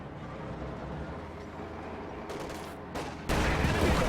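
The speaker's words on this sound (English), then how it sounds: "Panzer IV gets a perfect shot on that field gun" Tank and artillery combat in a World War II real-time strategy game, with a Panzer IV firing on a field gun: a low rumbling battlefield background, then a few sharp gunfire bursts and a loud blast near the end.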